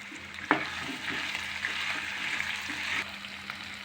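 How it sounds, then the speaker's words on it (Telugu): Turmeric and ginger-garlic paste sizzle in a hot pan for a capsicum masala curry, a steady soft frying hiss with a sharp clink of a spoon near the start and light stirring. "ఇవన్నీ మొత్తం మంచిగా ఫ్రై చేసుకోవాలి."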